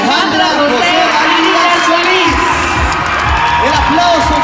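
A large crowd cheers, whoops and shouts loudly at the Miss Guatemala 2010 pageant crowning, a continuous roar with excited voices throughout.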